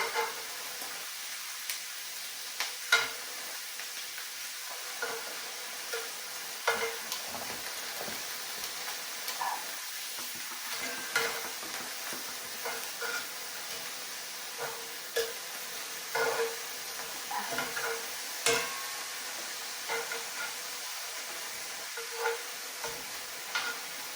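Seafood scampi with scallops sizzles steadily in a hot pan while pieces are stirred and flipped, giving a continuous close hiss broken by scattered scraping taps and clicks, with no talking.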